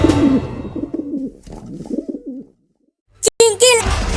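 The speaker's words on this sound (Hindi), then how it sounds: "वो रहा कमीना कबूतर।" A pigeon cooing in soft, repeated throaty phrases, close by, followed after a pause by a burst of louder clatter and voices.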